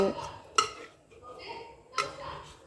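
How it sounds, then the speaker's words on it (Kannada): A spoon clinks against a metal pot while rasam with rasam powder is mixed, with two sharp taps and soft scraping between them, close and fairly quiet. "ಇವಾಗ ಚೆನ್ನಾಗಿ ಮಿಕ್ಸ್ ಮಾಡಿಕೊಳ್ಳೋಣ"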